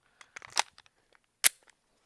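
A PX-9 Carry pistol firing S&B 124 grain ammunition at a range: a single sharp, loud shot stands alone after a cluster of smaller clicks and handling noises.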